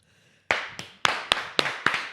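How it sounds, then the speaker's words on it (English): Six sharp claps ring out one after another at a steady, slightly uneven pace inside a van, each crisp and close with a short bright decay, after a brief near-silent start. "no clapping in the van"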